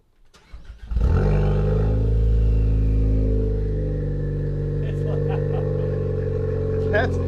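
A Ford Focus ST engine catches with a quick rev, then settles into a steady, loud, rumbling idle with a few light blips, close by.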